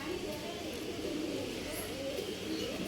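Racing pigeons readied for a tournament coo in a steady, continuous low murmur, with several birds overlapping close by and no clear break.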